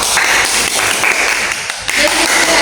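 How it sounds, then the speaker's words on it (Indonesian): Students in a classroom give applause for group 1, a dense, loud patter of many hands clapping with some voices mixed in. "kita beri tepuk tangan untuk kelompok 1"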